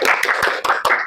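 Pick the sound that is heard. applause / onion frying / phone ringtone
applause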